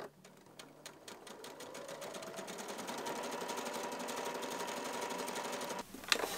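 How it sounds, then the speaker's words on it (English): A sewing machine stitches dress fabric in a rapid, even mechanical rattle that starts softly and grows steadier and louder, continuing for several seconds before stopping, then a brief clack. "all you do is just try and stay in the middle and start stitching"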